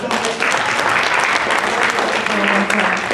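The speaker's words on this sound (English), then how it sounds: "round of applause, everybody, round of applause" A film-event audience at a Shabbat dinner gives a sustained round of applause, dense and steady throughout, close and full, with faint voices mixed in.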